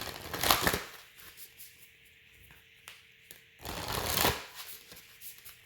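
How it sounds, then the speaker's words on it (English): Cards from a Moonology oracle deck are shuffled in two bursts of riffling and sliding, close and moderately loud, with quieter handling and tapping between them. "So let me pull from this Moonology deck to see."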